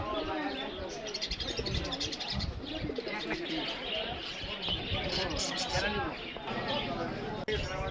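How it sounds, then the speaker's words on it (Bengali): Pigeons coo from cages amid a busy, noisy market crowd at Savar, Bangladesh, with chatter and bird calls overlapping throughout. "এখানে খেয়াল করে দেখুন প্রচুর পরিমাণে কবুতর আছে এই খাঁচায়"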